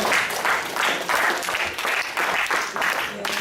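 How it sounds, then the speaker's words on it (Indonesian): An audience at a mobile computing technology seminar applauds in steady, dense clapping that swells and dips in regular waves, filling the room for several seconds. "Aplaus lagi untuk sesi pertanyaan kedua"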